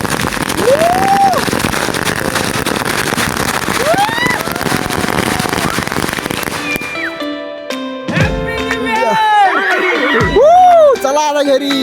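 New Year firecrackers go off in repeated booms and whistling rockets, some near and loud, some distant, over a steady crackle and background noise, with people talking and music in the mix.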